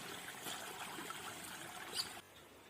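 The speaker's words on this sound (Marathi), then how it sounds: "आई आता अळूची पानं काढली, ती स्वच्छ धुवून घेते पाण्यामध्ये" Freshly picked taro leaves are rinsed in water beside a well, with a faint, continuous trickle and splash throughout and a small swish near the end.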